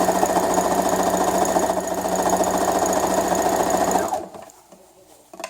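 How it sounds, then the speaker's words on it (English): A sewing machine stitches a fabric face mask with a filter pocket, a close, loud, rapid mechanical whir running steadily for about four seconds before stopping abruptly, leaving quiet room sound. "here I'm going to want to stitch carefully"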